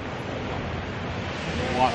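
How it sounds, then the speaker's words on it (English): Ocean surf washing against coastal rocks, a continuous broadband roar with gusts of wind noise on the microphone, swelling slightly near the end. "Check out the ocean, guys."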